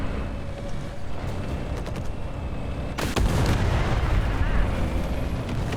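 A tank shell bursting in the combat video game War Thunder, heard as a loud, sudden blast about halfway through that fills the mix with rumbling, sustained noise over continuous battle ambience and distant gunfire.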